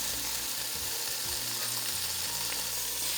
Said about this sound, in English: we're going to get a nice sear on that just before we take it out of the pan